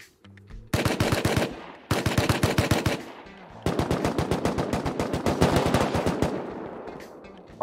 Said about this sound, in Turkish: Ardından fırlatmada silah sesi duyuyoruz